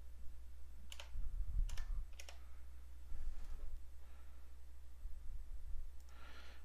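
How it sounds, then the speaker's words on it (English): Soft keystrokes on a computer keyboard in a few short bursts as IP addresses are entered, quiet and close over a low steady hum. "if we go in and start typing in our IP addresses that we had,"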